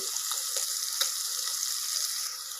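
Mutton curry pieces frying in oil, a soft, steady hiss of sizzling with faint crackles, fairly quiet and even throughout with no speech.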